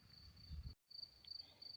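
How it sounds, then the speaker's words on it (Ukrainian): Steady high-pitched cricket chirring runs throughout, with a brief dropout near the middle and low rustling noise underneath in the first part. "Чуєте, як цвіркуни? Цвіркають."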